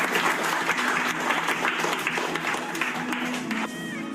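A school class applauds together in a classroom, a steady round of clapping at moderate level. A faint murmur of voices sits underneath near the end.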